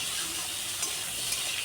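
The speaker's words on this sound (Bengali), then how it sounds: "সামান্য লবণ দিয়েছি, লবণ দিয়ে আলুটাকে কিছুক্ষণ ভাজা ভাজা করে নেব।" Potato pieces fry with a little oil and salt in a pan: a steady, close, even hiss of sizzling with faint stirring, no voices.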